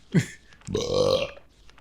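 A single close, loud burp from a man playing Castlevania: Legacy of Darkness, a short guttural onset followed by a longer, voiced, rumbling belch of about half a second.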